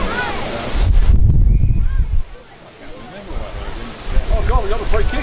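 Wind gusts buffet the microphone in heavy low rumbles, with voices talking over it outdoors at an under-12 junior Australian football grand final.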